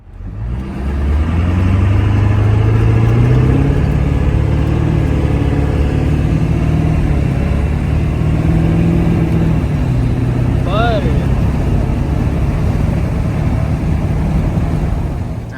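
A Ford OBS 7.3 diesel truck engine runs on a test drive, its low clattering drone rising and falling with acceleration, loud and steady, with a brief squeak partway through.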